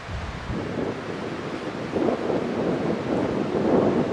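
Strong wind blows outdoors in a forest, buffeting the microphone with a steady low roar and occasional louder gusts, with no one speaking.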